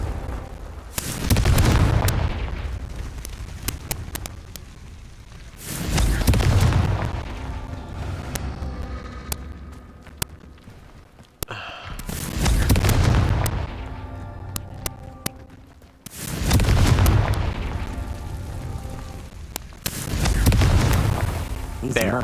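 Repeated Confringo spell explosions from Hogwarts Legacy, five broad booming bursts arriving every few seconds with rumbling tails over steady game background.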